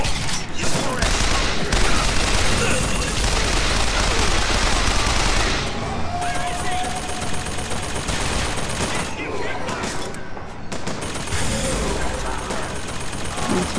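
Rapid bursts of gunfire from BioShock Infinite crackle in dense volleys, with automatic fire and shots overlapping across most of the stretch and brief lulls between flurries, mixed with game sound effects.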